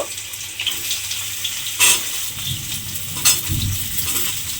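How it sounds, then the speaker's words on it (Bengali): Small diced eggplant cubes frying in hot oil for a red amaranth leaf dish, a steady loud hiss with occasional stirring scrapes and a couple of sharp louder bursts. "সেই বেগুনগুলো আমি প্রথমে তেলের মধ্যে দিয়ে দেব।"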